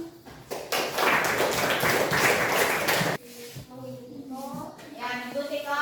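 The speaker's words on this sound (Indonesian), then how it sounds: "kasih aplaus" Applause bursts out in a classroom during a religion lesson, dense, loud clapping for about three seconds that stops abruptly, followed by quieter voices talking.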